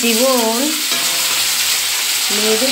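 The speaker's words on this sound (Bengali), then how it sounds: "এই তেলের মধ্যেই বেগুনগুলো ভেজে নেব।" Eggplant pieces frying in hot oil in a kitchen pan, a loud steady sizzle throughout with some stirring, close up and without talk.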